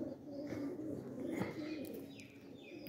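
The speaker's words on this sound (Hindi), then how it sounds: "ये कबूतर लैंडिंग कर रहे हैं" Pigeons coo softly at close range while landing, their low murmuring calls running continuously alongside faint rustling and some light background sounds.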